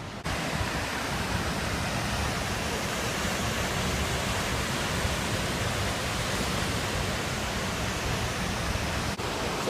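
Wahclella Falls in the Columbia River Gorge roars as a constant, dense rush of falling water, close and loud, unchanging for nearly ten seconds with no voices.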